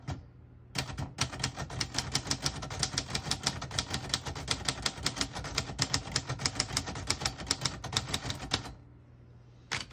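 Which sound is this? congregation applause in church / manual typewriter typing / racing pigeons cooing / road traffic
manual typewriter typing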